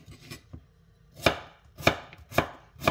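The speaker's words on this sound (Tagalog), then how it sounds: "hinihiwa ko lang siya ng maninipis para siyang sayote" Knife cutting thin slices of watermelon rind, four crisp sharp chops spaced about half a second apart after a couple of faint taps, close and clear with no talk.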